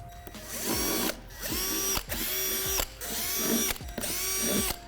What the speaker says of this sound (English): we need to drill out some holes with a 3/8 drill bit